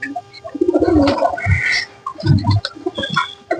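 Pigeons gather to be fed khichuri rice, with a clear mix of low coos and short calls over several seconds amid scattered nearby movement.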